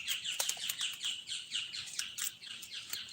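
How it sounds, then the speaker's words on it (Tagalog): A noisy bird calls in the provinces with rapid, repeated high chirps and tweets in a steady rhythm, fairly faint and near, with no talking. "Ibon na yan, ang ingay."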